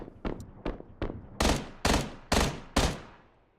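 Gunfire in the battle-royale game PUBG: eight sharp single shots in steady succession, the first four lighter and the last four heavier and booming, with no talking.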